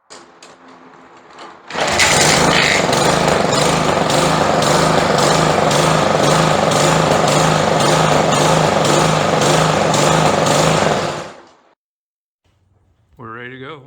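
A Briggs & Stratton small engine without a throttle setting, with a surging fault, starts after brief speech and runs loud and close for about nine seconds with a busy rattling drone. It then cuts out, and a voice follows.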